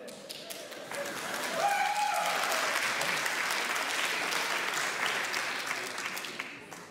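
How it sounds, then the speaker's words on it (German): Studio audience applause at an Austrian TV comedy panel show, a dense steady wash of many hands clapping that swells in after a second, holds loud for several seconds, then begins to ebb. "War der Applaus von den Frauen jetzt, oder?"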